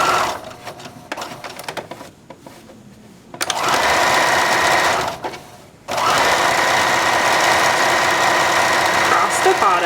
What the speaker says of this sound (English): start sewing on 1/4 inch seam allowance, right sides together, the 2 bottom pocket pieces.